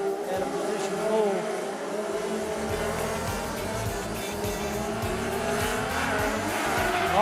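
Formula 500 race cars pull away at the start of a speedway race at Rockhampton, engines roaring together in a loud, sustained, rising drone with tyre noise, with a commentator speaking underneath.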